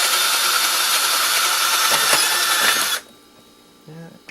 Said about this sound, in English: So, pretty much have to drill through.